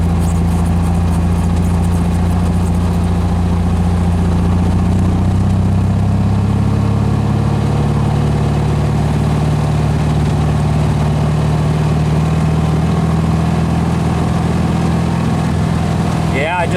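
A car with a 1776 single-port engine and a 2110 on 28-inch tires, driving in stock second gear, makes a steady, loud, low engine drone that holds even throughout.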